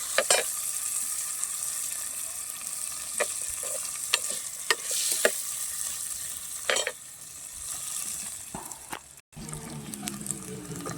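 Garlic, onion and tomatoes frying in a pan for a pirandai chutney, a steady close sizzle broken by repeated sharp stirring clicks and scrapes, with no talking.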